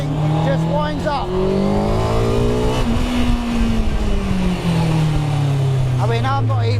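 A high-revving car with a Honda superbike engine winds up loudly through the gears toward 14,000 RPM, its pitch climbing steadily and dropping at each shift, close and continuous.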